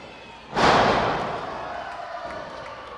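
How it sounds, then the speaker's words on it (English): Heavy slams from a suplex and a body drop hit hard and boom out, leaving a fading rumble of bodies crashing onto a wrestling ring mat. "Those two thuds were a suplex and a body drop."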